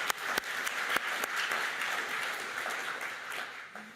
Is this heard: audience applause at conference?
yes